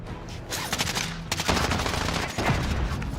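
Rapid bursts of automatic gunfire ring out in a Call of Duty: Modern Warfare Warzone battle royale match, loud and close with overlapping volleys.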